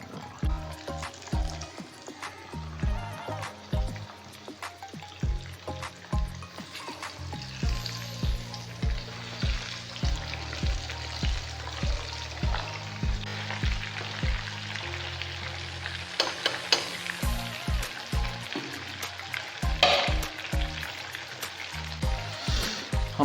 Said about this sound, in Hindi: हमारा तीसरा और आखिरी पराठा भी फ्राई हो चुका है